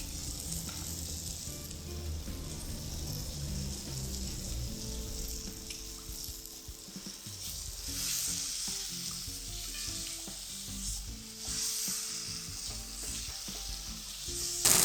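Pork frying in a pan with ackee over an outdoor fire in Jamaica: a continuous close sizzle with intermittent stirring scrapes and bubbling, steady in level, tonal background sounds underneath, no talk.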